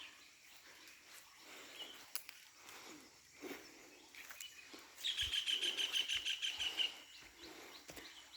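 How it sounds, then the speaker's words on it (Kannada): Birds chirp in quiet, misty early-morning air in Madikeri, Kodagu: scattered calls early on, then a quick run of bright, rapid tweets close by. "ಈ ಬೆಳಗಿನ ಜಾವ ಹಕ್ಕಿಗಳ ಕಲರವ"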